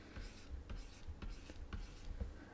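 Pen writing out a number by hand on paper, a short series of quiet, rhythmic scratchy strokes with small taps between them, close and soft.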